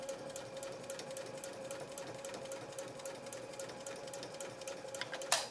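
A Janome 3160 QDC sewing machine runs a long straight stitch, its needle tapping in a fast, even rhythm close by for several seconds before halting abruptly at the end.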